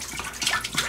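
Water is poured into a pot while making lemon-lime wine, producing a soft, fairly quiet splashing gush over about a second, with no talking.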